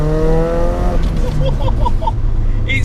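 A Nissan S13 on 17-inch by 9.5-inch wheels drops a gear and accelerates hard in wet weather, its engine note rising loud and close under a speaking voice, with harmonic revs climbing then breaking into rough, gritty roar.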